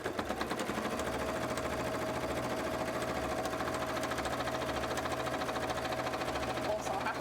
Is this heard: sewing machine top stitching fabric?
yes